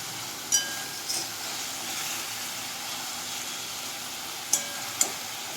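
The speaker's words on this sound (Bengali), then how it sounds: "মাছের টুকরোগুলো দিয়ে একটু নাড়াচাড়া করে কষিয়ে নেব মশলার সঙ্গে" Fried fish pieces cook with spices in a pan. A faint, steady low sizzle runs throughout, broken by a few sharp utensil clinks against the pot. No talk.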